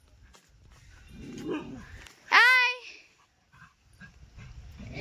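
A single loud, drawn-out dog bark or howl rings out close by, between stretches of quiet talking and background noise.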